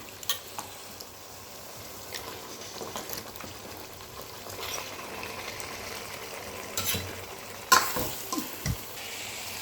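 Washed chicken tipped into a pan of gravy and stirred, a soft wet sizzle with a few scraping knocks of the spoon, mostly low and steady with a louder clatter near the end.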